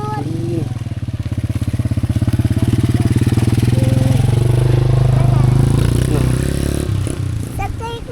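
A motorcycle engine runs loud and close, holding a steady, throbbing idle that rises slightly mid-clip before easing off, with faint voices under it near the end.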